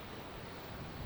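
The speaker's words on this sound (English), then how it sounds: "it feels very windy out here" Strong wind buffets the microphone on an exposed edge outdoors near a van, a low, rumbling gusty roar that stays steady through the moment.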